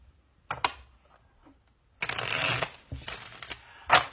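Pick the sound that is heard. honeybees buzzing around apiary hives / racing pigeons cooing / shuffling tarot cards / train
shuffling tarot cards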